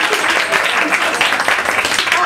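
Applause from the audience at a storytelling session, with brisk, close clapping from many hands that stays loud and continuous throughout.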